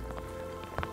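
Rain falling outdoors during a turkey hunt, a steady soft patter of drops with a few slightly louder nearby hits.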